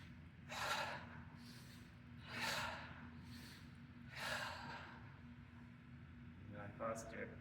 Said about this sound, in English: 2 big breaths.